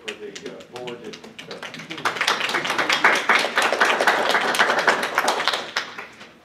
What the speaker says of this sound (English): I think a round of applause is in order for the board